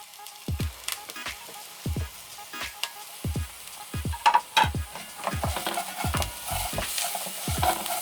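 Garlic and onions frying in a pan, with a soft sizzle under a series of distinct spoon strikes and scrapes against the pan, about a dozen irregular knocks, close and clear.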